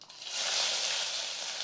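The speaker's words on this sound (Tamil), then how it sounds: "அந்த வெங்காயம் சேர்த்துக்கிறேன்" Chopped onions hitting hot oil for egg curry, giving a steady, close sizzle that rises quickly and holds with no talking.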